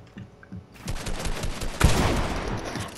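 Rapid gunfire in a fast one-on-one shooter duel: a quiet start, then dense, loud bursts of shots with one sharp, heavy crack partway through, continuing to the end.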